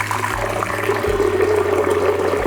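Water poured steadily into a container or blender to mix a teaspoon of herbal tonic powder, a continuous splashing fill that runs the whole moment, close and fairly loud.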